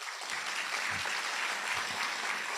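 A conference audience at a judicial gender-justice event gives a steady, moderately distant round of applause for the guests of honour, an even wash of clapping throughout with no talk.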